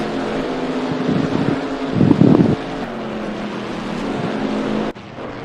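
GT race cars lapping Laguna Seca in Assetto Corsa Competizione, a GT America series race, give a steady, loud engine drone with wind-like roar, swelling briefly midway and then cutting off sharply near the end.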